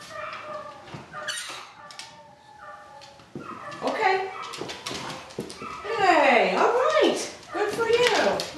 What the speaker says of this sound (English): Doesn't help when they're barking upstairs, does it?